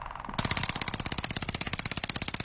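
Rapid automatic gunfire in a first-person shooter video game, a steady stream of loud, evenly spaced shots that bursts in after a brief quiet moment and keeps firing without pause.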